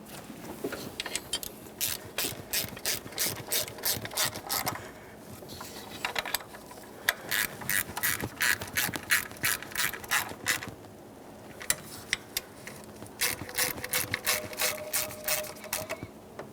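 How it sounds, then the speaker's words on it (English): A hand ratchet clicks in quick repeated bursts while snugging the water pump mounting bolts on a 3.5L V6 Toyota Sienna engine, with short pauses between each run of clicks. "With all the mounting bolts started in, it's time to snug them up"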